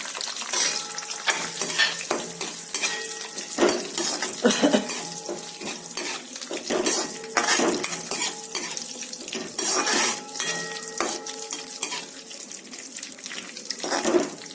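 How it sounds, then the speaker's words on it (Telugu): Raisins sizzling and being stirred in hot fat in a pan while making sweet pumpkin halwa, a steady loud frying hiss with frequent scraping and clinking from the spoon. "ఇదిగోండి, కిస్మిస్ వేస్తున్నాను"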